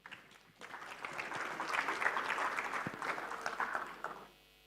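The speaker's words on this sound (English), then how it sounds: "Please give a round of applause." Audience applause at a tech company's presentation event, steady clapping that swells and then fades out, fairly distant and alone with no talk.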